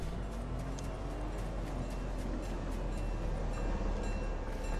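A train rumbles past in a Fortnite match, a steady, loud rolling drone with faint rhythmic clicks filling the whole stretch, with no talk over it.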